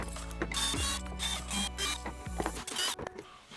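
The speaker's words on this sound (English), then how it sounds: "we're gonna start by turning the toy upside down and removing all the screws on the back of the toy" A powered screwdriver backs screws out of the plastic underside of a Fisher-Price rocking record player toy, making a close, steady whirring with brief ratcheting clicks between turns.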